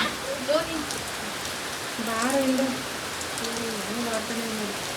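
Heavy rain pours down in a constant dense hiss, while people talk briefly over the downpour.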